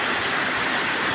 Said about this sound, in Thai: ดูน้ำไหลมานี่น้ำป่าไหลหลาก